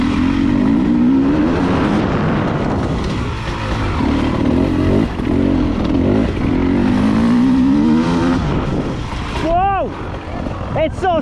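A 2020 Beta 300 Race Edition motorbike engine runs loud and close as it accelerates, its pitch rising and falling in surges, with excited voices talking over it.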